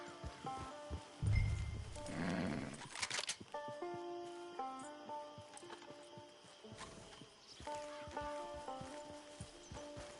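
A horse in a video game snorts and whinnies, then its hooves clip-clop at a steady walking pace, fairly quiet and mixed with faint ambient background sounds.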